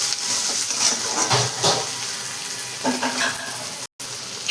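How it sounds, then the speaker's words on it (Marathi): Tomatoes sautéed with onion in a pan, heard as a constant close sizzle broken by a few spatula stirs and scrapes, with a brief gap near the end. "तर चला मी इथं टमाटो टाकून घेतलेला आहे आणि टमाटो पण छान असं परतून घेणार आहे"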